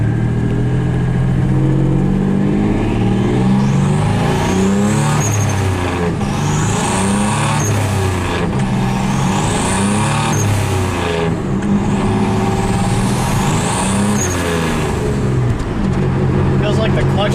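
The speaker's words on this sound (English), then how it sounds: "This thing is definitely more fun to drive than the Mustang, just because of the turbo noises." A turbocharged Dodge Dakota pickup on a new turbo exhaust setup pulls hard through repeated rising revs, each followed by a whooshing turbo spool and flutter, loud from inside the cab, with people talking over it.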